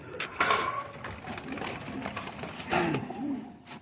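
Rampuri pigeons cooing close by in a loft, with soft repeated throaty coos and wing flutters over a busy outdoor background, several birds calling in quick succession.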